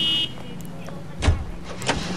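A car driven in the 1940s Los Angeles crime game L.A. Noire, its steady engine hum running low underneath, with a couple of brief louder whooshes or bumps partway through and a faint voice in the background.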